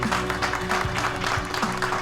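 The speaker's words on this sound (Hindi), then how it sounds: "इन दोनों के लिए भी जबरदस्त तालियां होनी चाहिए" Applause from a crowd at a family celebration, a steady wash of clapping over a sustained tone and low rumbling background, with no voices standing out.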